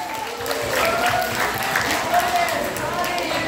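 A group at a 55th-anniversary reunion celebration claps together in a close, steady round of applause, with voices mixed in beneath the clapping.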